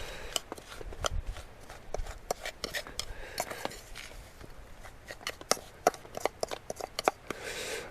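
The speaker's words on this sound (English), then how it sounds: "I'm just going to mix it a little bit more." A spoon works through dry, crumbly beef pemmican, giving quick scraping and clicking strokes at close range, steady and busy throughout.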